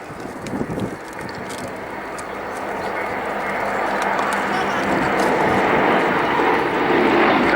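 Aerostars aerobatic display team aircraft flying in formation at Cosford, with propeller engine drone swelling steadily louder as the planes approach, mixed with wind noise and a brief voice early on.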